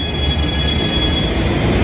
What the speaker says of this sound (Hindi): वो आनंद विहार का मेट्रो स्टेशन है।